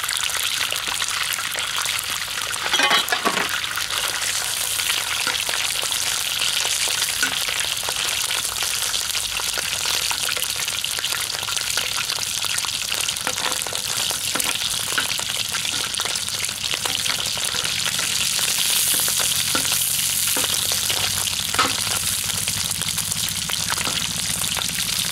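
Lamb liver sizzling steadily in hot fat on a cooking surface outdoors, a dense continuous crackle and spatter that runs on evenly, loud and close, with no one talking.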